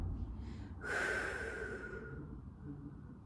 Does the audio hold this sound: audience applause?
no